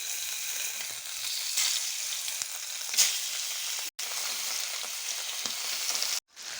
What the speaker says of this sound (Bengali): মশলাটি কষাই নিয়ে আনছি